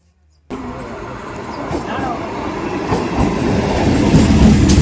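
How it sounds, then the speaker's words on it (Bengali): A train rolls into Kashinagar station with a steady rumble and rhythmic clickety-clack of wheels on rails, growing louder as it approaches; faint voices underneath. "আমাদের ট্রেন কাশীনগর স্টেশনে ঢুকে গেছিল"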